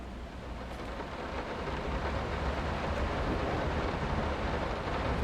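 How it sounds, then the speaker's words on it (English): Heavy rain pours steadily in The Quarry video game, a dense, loud, unbroken wash of rainfall that swells slightly over the clip, with no talking. "that rain is coming down"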